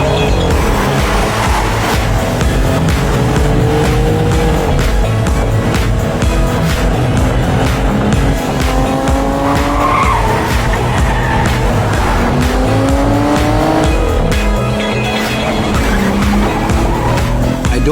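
A car speeds off with its tires skidding and squealing, its engine revving loud and continuous throughout, with rising and falling screeches over the motor.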